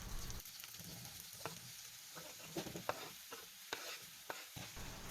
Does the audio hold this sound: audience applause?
no